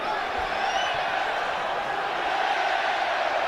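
A large boxing-arena crowd at the Jake Paul vs Julio César Chávez Jr. fight keeps up a steady, dense roar throughout, with a voice faintly audible within the noise.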